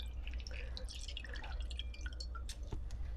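Squeezed oyster mushrooms shed water in a steady patter of small drips, faint and close against a low background hum, with no talking.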